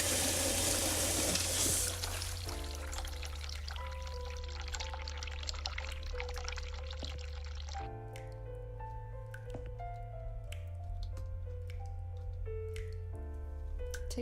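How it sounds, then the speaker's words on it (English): A toilet flushes in the horror video game The Cat Lady, a gushing pour of water that settles into trickles and drips under soft, sustained background music tones. "Flush."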